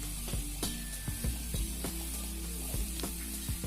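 Tomatoes and onions sauté in hot oil, giving a steady sizzle broken by sharp clicks of a utensil striking the pan every half second or so, close and fairly loud with no voices.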